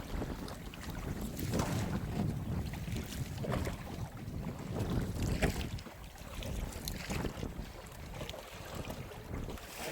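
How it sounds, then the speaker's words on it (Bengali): A small boat rocking on a river in rising wind, steady gusty rushing and wind buffeting the microphone with water sloshing beneath, continuous and fairly loud, with no talking. "একটু হাওয়া উঠেছে, সেই সাথে নৌকা একটু দোলা হচ্ছে"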